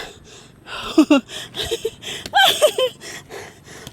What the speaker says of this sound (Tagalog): Ang bilis ko na hingalin, grabe. Hingal agad.